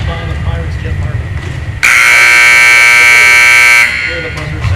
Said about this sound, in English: Where the buzzer sounds.